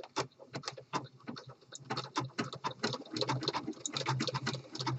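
A home sewing machine fitted with an open toe embroidery foot runs a stretchy decorative stitch over a fleece seam, making a close, rapid, steady rattle of needle strokes that continues throughout.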